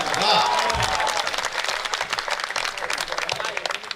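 Audience clapping at a Hindi political rally, a loud dense burst at the start that thins into scattered, uneven applause with crowd murmur.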